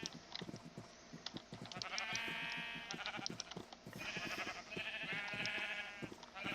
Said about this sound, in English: Also, a whole bunch more sheep.